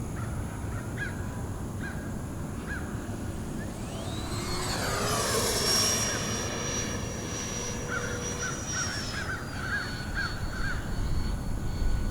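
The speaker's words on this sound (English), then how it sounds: "I'm going to set up for a high-speed pass coming the other way" E-Flite Viper 70mm EDF RC jet sweeps past on a high-speed pass, a rising then falling whoosh with a sharp whine as it flies by upwind, while crows caw in the background.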